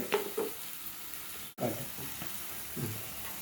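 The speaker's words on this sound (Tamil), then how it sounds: "ஒரு பொன்னிறமான பதத்தில் நாம் இதை வந்து பொறிச்சா போதும்" Onions frying in a pan until golden, a close sizzling hiss broken by a few short stirring scrapes and one brief cut in the middle, with no voices.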